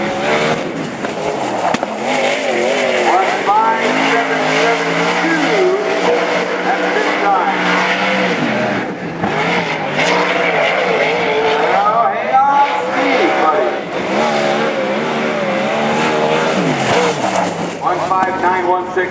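360 winged-less sprint cars in Northwest Wingless Tour qualifying at Grays Harbor Raceway, engines screaming and revving loud and close as they pass and throttle through the turns, under continuous announcer talk.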